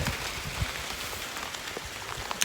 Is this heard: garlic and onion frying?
no